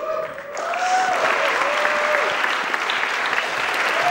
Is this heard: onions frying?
no